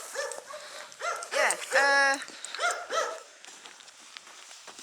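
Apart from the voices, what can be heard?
big dog barking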